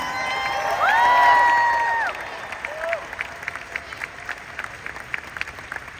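A growth conference audience in Los Angeles bursts into loud shouts and whoops, then breaks into steady, scattered clapping with occasional cries that continue to the end.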